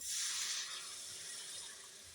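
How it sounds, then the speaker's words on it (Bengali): Hot water poured into a spiced curry in a pan, giving a steady hissing, bubbling rush that is loudest at the start and eases slightly while continuing, close and fairly soft. "এবার আমরা গরম জল দেব।"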